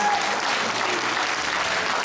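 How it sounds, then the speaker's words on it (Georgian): Applause from an audience at an anniversary celebration evening honouring Vakhtang Katishvili, co-founder of the Iveria ensemble: dense, steady clapping that fills the whole stretch at an even level, with no voices above it. "დამსახურებული აპლოდისმენტები ბევრი მიზეზის გამო"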